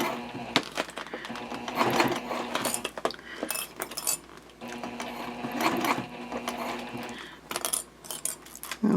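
A sewing machine backstitches through jelly vinyl on a pouch, its needle chattering in quick mechanical runs with brief pauses and a steady motor hum, close and fairly loud.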